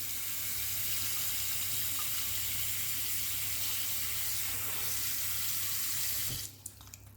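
Tap water runs steadily over dried fruit for a Christmas fruit cake, a close, continuous splashing rush that cuts off abruptly near the end.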